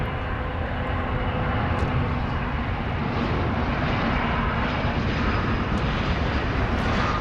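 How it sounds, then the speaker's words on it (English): An Eva Air Boeing 787-9 Dreamliner jet departs DFW Airport at night, a steady, broad engine roar that holds level and loud throughout with no talking. "Eva Air Flight 49 going to Taipei. 7879 Dreamliner."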